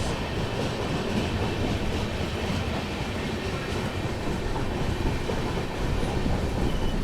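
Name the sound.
Thirukkural Express passenger train running on rails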